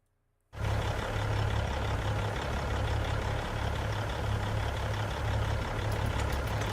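A truck engine in Farming Simulator 25 cuts in abruptly after a brief silence, then holds a loud, steady low diesel rumble and idle drone close by for several seconds, with no talking.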